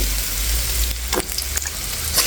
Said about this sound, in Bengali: তেলটা দিয়ে এখন একটু নেড়ে ছেড়ে নিচ্ছি। আর জালটা কিন্তু বন্ধুরা হাই হিটে রাখছি।